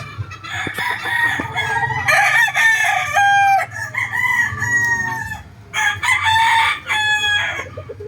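Several gamecock roosters crow one after another, loud and close, their drawn-out calls overlapping with clucking in between.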